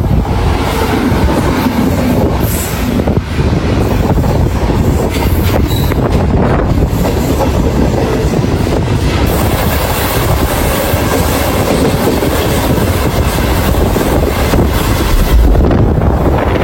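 A MEMU train pulling away on the Visakhapatnam to Palasa line, heard from on board as a loud, continuous rumble with clattering wheels, occasional squeals and wind buffeting the microphone.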